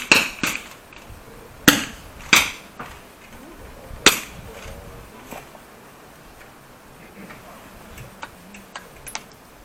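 Rifle shots in a prone shooting competition ring out as a handful of sharp, separate cracks at an irregular pace, loudest early on, then a few fainter, more distant reports.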